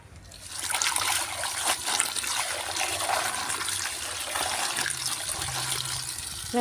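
Water runs and trickles steadily over clay garlands being rinsed, a close, continuous splashing gush with small shifts in flow throughout.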